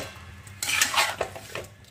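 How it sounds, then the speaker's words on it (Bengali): A spoon scrapes and stirs through a pan of desi chicken and potato curry with green chilies, a brief burst of close metallic scraping and clatter that fades after a moment. "এরপরে আমি দেখো ভালো করে একটু নাড়াচাড়া করে নেব"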